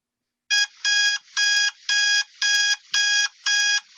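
A loud alarm clock rings alone in a steady repeating pattern of eight evenly spaced electronic bursts, each about a third of a second long with short gaps between.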